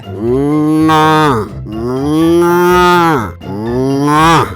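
Cow mooing in an animated Urdu story, three long loud drawn-out moos in a row, close and clear with no talk over them.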